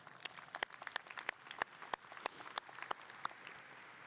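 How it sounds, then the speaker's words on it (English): Faint, distant audience applause at a college commencement, with sharp individual claps standing out irregularly over a soft wash of clapping. "let's give them a round of applause"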